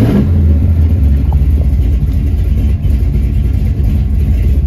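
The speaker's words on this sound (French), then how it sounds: "Nous procédons donc au démarrage du Marauder." A 1964 Mercury Marauder coupe's V8 engine turns over and catches, settling into a loud, deep rumbling idle close by, with no talking.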